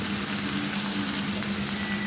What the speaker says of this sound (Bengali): তো আমি হালকা করে ভেজে নিচ্ছি এটা।